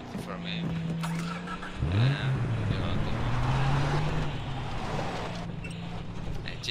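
A car engine in the game Far Cry 3 hums and revs up in pitch over a constant background wash, steady and fairly close throughout.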